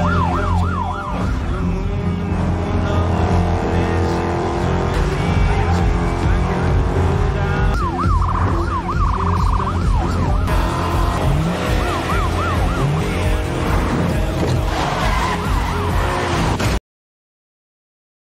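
Police car chase in a film, loud wailing sirens rising and falling over roaring engines and dense action music, with tire noise throughout, ending abruptly in silence.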